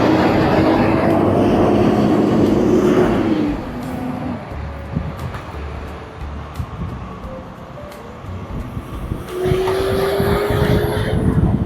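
Passing road traffic in a Canadian city, loud vehicle engines and tire roar swelling and easing as cars go by, with no talk.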